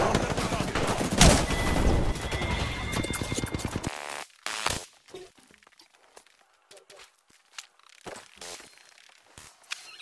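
Gunfire in a Halo video game firefight, dense rapid bursts of shots during the first four seconds, then scattered isolated bangs and game sounds, with voices heard in between.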